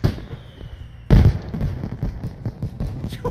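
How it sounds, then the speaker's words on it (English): Fireworks going off: a sudden loud burst followed by a run of crackling pops and bangs, fairly close and continuing to the end. "Fireworks!"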